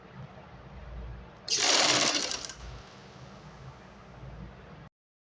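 A sewing machine stitches the center of a kameez neckline in one short, loud whirring burst, with a low steady hum before and after.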